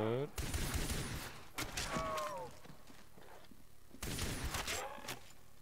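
Gunfire in a custom zombie map for the game World at War, with short bursts of several quick shots separated by gaps and whining game sounds, fairly faint overall.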